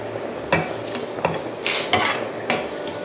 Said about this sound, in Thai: ใส่แปะก๊วยที่ต้มสุกแล้วลงไปค่ะ